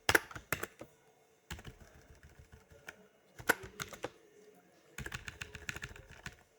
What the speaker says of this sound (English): let's make sure we type it correctly